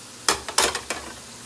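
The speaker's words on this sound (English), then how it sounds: "if it's hot, they'll just fry up in a second" Tortilla chips drop into hot oil, setting off three quick bursts of bubbling sizzle that fade within about a second, close and fairly loud, with no talking.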